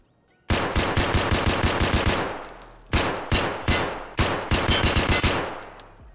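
An SKS rifle with a 20-round magazine fires in a video game, loud rapid bursts of shots in a fast rhythm, a long string followed by shorter groups after a brief pause.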